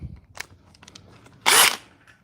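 A DeWalt 860 power tool, set against a Flex, gives one loud, brief whirring burst after a few faint clicks and handling taps.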